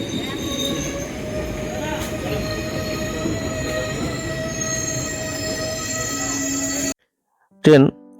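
A Nabadwip Dham–Malda Town Express pulls out of Khagraghat station, its low rumble and wheel squeal steady and loud for about seven seconds before cutting to near silence, followed by a short burst of louder noise.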